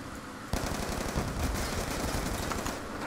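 Rapid automatic gunfire from hip firing in Black Ops 2 bursts in abruptly and continues as a dense, loud, close rattle with no speech over it.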